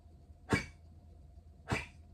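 A dog gives two short, harsh coughs about a second apart, each a quick breathy burst over a quiet indoor background, with no talking.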